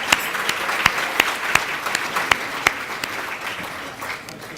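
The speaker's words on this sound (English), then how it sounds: "Yes, round of applause." Applause from an audience at a neurosurgery residency graduation in a country club, a steady patter of many hands with a few sharp, distinct claps standing out, moderately loud and without talk.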